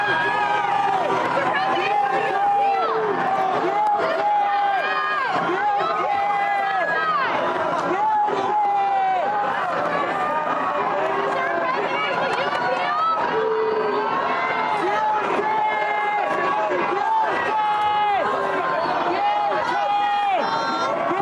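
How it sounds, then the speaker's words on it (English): Crowds gathered outside as Donald Trump walks toward his residence after the guilty verdict in the hush money trial, a dense, continuous roar of shouting, cheering and overlapping voices with chanting-like bursts, loud and sustained. "you can hear crowds"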